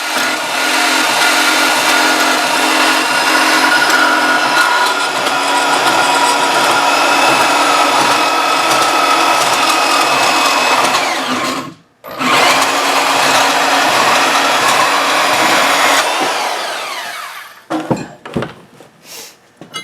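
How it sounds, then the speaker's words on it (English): Metal pipe being cut at an angle for an antenna mount, a steady high-pitched whirring cut running loud and continuous, a brief pause midway, then resuming before ending in scattered clanks and taps. "I'm going to go ahead and get this cut, and it's kind of a weird shape because the pipe is at an angle."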